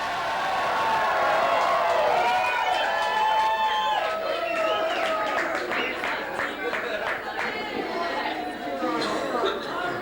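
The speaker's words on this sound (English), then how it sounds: "Let's all raise a glass and let me hear a good loud cheers." A crowd at the Mishawaka Brewing Company shouts cheers together in a toast. Many voices overlap in loud, sustained shouting and chatter close by.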